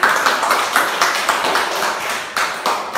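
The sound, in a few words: class clapping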